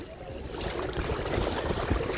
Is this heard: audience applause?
no